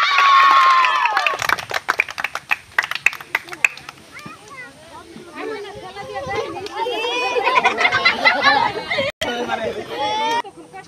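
A group of children clap their hands together during a blindfolded game of drinking bottled water through a pipe. Sharp, irregular claps burst out early, then fade under lively, overlapping children's voices and chatter.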